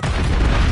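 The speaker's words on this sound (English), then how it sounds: "Grenade out." A grenade blast in Call of Duty: Modern Warfare III multiplayer on the Quarry map, a short, loud, close boom with a heavy low rumble.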